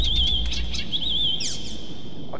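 A small bird chirps in a video game set in China, Assassin's Creed Chronicles: China, a steady high warbling twitter that runs close and clear over low game ambience, with a few sharper chirps mixed in.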